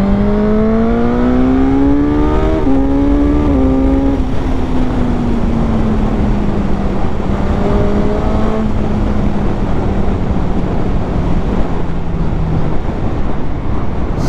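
A 2021 Suzuki GSX-S1000 motorcycle in its full 152-horsepower version accelerates hard on a test ride, its loud engine note climbing steeply and dropping at each upshift, then holding a steady roar against constant wind noise.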